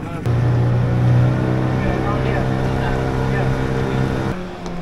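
A motorboat engine drones steadily at close range on a short river crossing in a Malaysian jungle, with water rushing along the hull throughout the short ride.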